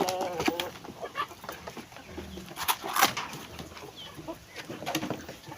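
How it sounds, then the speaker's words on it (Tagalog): Brahma, Rhode Island, Shamo and native chickens on a small chicken farm cluck and cackle in scattered short bursts, fairly faint and nearby, with soft outdoor background noise. "So ito lahat yung mga manok natin guys, at nandun pa sa kabila mayroon tayong mga native chicken doon."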